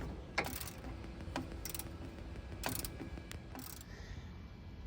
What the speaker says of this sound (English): From the back of the caliper, we're now going to remove the 2 caliper bolts holding on the brake caliper.